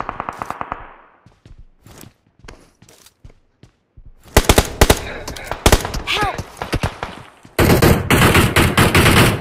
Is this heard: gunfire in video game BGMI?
yes